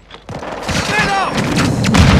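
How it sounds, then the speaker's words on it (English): Gunfire and booming impacts erupt in Call of Duty Modern Warfare II, with shots and a distant-sounding blast, and a voice speaks over the chaos. "Taking effective fire."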